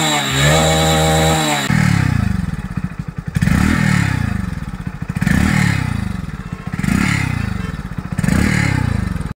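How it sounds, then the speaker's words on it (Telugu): Hero Splendor Plus Xtec 2.0 motorcycle engine, loud and close, idling steadily before being revved in a series of repeated rising throttle blips. "ఫ్రెండ్స్ విన్నారు కదా ఇంజిన్ సౌండ్ ఎలా ఉందో"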